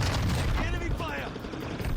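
Gunfire in a Warzone 2.0 Rebirth match on Ashika Island: a dense, continuous burst of shots and booming impacts that stays loud throughout, with game voice callouts heard alongside.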